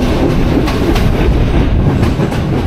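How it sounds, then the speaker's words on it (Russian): A blue train passes close by in Sri Lanka, a loud, sustained rumble with rhythmic clickety-clack from the wheels over the rails, continuous from start to finish with no voices. "Поезд пропускал. Этот поезд синий."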